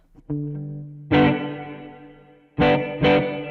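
Electric guitar notes and chords ring through a Line 6 DL4 MkII delay pedal set as a doubler, each strum doubled by a short delay, with sustained tones fading between attacks.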